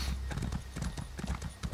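A galloping horse in Elder Scrolls Online, rapid rhythmic hoofbeats thudding close and steady in a quick repeating clip-clop pattern.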